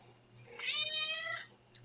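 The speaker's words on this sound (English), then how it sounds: "Is that Brian's cat?" A single drawn-out meow from a cat, close and fairly clear, rising and falling over about a second inside a small studio with no one talking.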